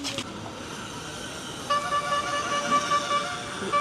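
Car horns sounding on a Frankfurt city street, a few short tonal honks starting partway through over steady traffic and street noise.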